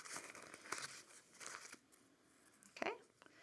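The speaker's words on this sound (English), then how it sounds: "take your blank and just face down on a paper towel and just rub off any extra little goo." A metal stamping blank is rubbed face down on a paper towel, giving soft bursts of papery crinkling and scuffing, close by, with a sharper crunch near the end and no speech over it.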